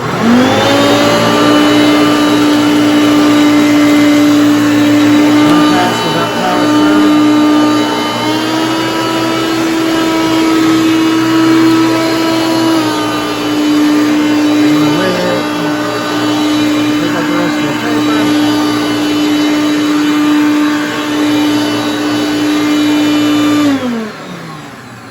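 A Hoover Concept One toy vacuum cleaner runs loudly and close with a steady whining motor tone and a faint rattle from the headlight lens, then switches off near the end.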